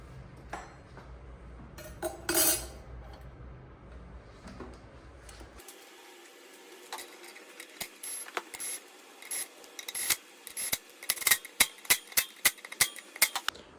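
Metal parts clink and ratchet while a brake rotor goes onto the side of a Surron electric dirt bike wheel: scattered light taps at first, then a run of sharp, close clicks and clinks that grow denser toward the end.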